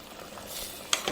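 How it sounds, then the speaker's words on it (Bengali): Fried okra tipped into a pan of simmering gravy with added water, giving a soft steady sizzle that swells midway, then two sharp clatters near the end; no voices. "এবার এখন যে ভেন্ডিগুলো ভেজে রেখেছিলাম সেগুলো দিয়ে দিচ্ছি।"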